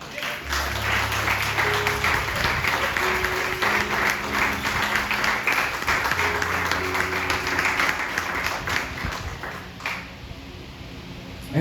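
Applause from a church congregation during a sermon, a dense sustained wash of many hands clapping for about ten seconds before it thins out, with low music tones underneath.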